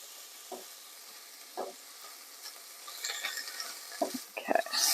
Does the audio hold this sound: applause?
no